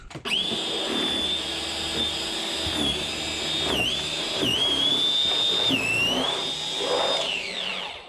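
An ENHULK 20V cordless electric snow shovel runs through wet, packing snow, its motor giving a steady high whine that dips and recovers as the auger bogs down and clears several times.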